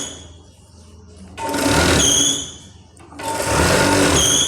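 Sewing machine stitching the edge of a blouse, two loud sustained runs of rapid whirring stitches separated by a quieter pause, close up with no talk.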